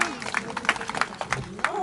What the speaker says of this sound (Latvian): Skaļi aplausi